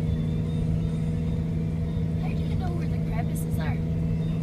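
Vehicle engine rumbling steadily while driving across a glacier on a new track, with a low continuous drone and people talking over it throughout.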